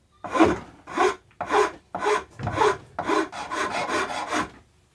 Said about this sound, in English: I've got now the Iwasaki rasp here. It's beautiful, and I'm just using that